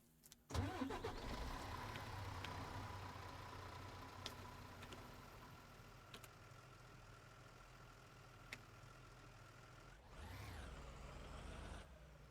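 A fire rescue squad truck in a firefighting video game, a combined pumper and rescue rig, cranks and starts with a sharp burst, then settles into a steady loud diesel idle with occasional clicks, ending in a rising hiss like an air brake.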